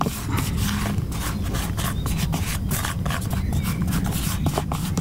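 Two dry fishing bait flours mixed together by hand, a steady close rubbing, scraping rustle that continues without pause throughout.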